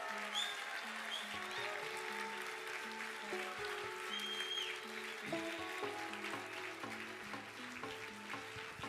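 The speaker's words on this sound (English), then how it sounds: "Everybody stand up and applause." Faint audience applause at a sourcing-event prize ceremony rustles steadily beneath louder tonal background music, with no clear individual claps standing out.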